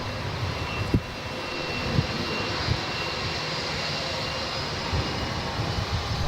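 Jetstar jet airliner coming in to land at Melbourne Airport gives a steady broadband engine roar, moderately loud and unbroken, with faint thumps and no talking.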